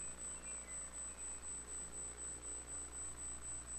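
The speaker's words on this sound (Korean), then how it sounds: "에어컨 실외기가 멈추면 소리도 멈출 겁니다." An air conditioner's outdoor unit runs outside a church, giving off a steady low hum with a regular pulsing throb about every third of a second, alone and unchanging, with no talking.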